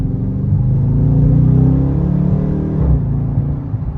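A Dodge Charger RT engine rumbles loud and close through its stock exhaust, holding a steady low drone with slight swells of revving, and no voices over it.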